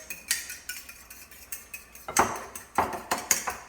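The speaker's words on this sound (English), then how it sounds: "Just beat your egg up." A fork beating an egg in a bowl while making old-fashioned fried green tomatoes: a run of quick, close clinking strokes against the dish, with several sharper taps toward the end.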